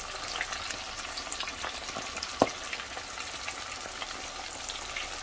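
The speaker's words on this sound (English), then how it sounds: "make sure you stand back when you frying that fish" Buffalo fish fries in hot oil with a busy, continuous sizzle and crackle, spattering pops scattered throughout and one sharp louder pop midway.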